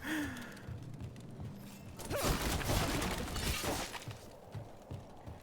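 Breakable objects smashed in the game Dragon Age: The Veilguard, a loud crash and shatter of splintering debris lasting a couple of seconds, with creaks and clatter trailing off.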